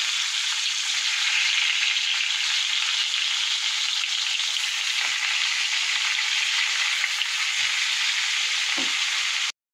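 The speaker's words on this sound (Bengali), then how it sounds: "এবার কড়াতে মাছের মাথাটা দিয়ে দেবো" A fish head frying in hot oil in a wok, a loud, steady, continuous sizzle heard close up with no talking, cutting off abruptly at the end.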